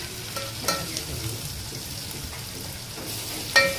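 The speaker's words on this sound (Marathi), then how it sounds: "हे असं फ्राय करून घ्यायचं" Bitter gourd (karela) sizzles and fries in a pan, a soft steady crackle with occasional sharper pops and spatula stirs, close and fairly quiet.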